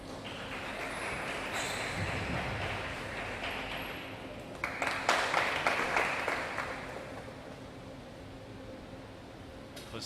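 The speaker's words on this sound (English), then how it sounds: "his teammates getting behind him, cheering him with every point" At a school boys' table tennis final, teammates cheer and clap for their player, a crowd burst swelling midway over a hum of hall noise with a commentator's voice running underneath.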